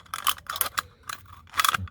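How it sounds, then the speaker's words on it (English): Scissors snip through thin sheet material along a marked line for a makeshift liquid fuel burner, several crisp, close cutting strokes in an uneven rhythm with short pauses between them. "Scissors in the left hand"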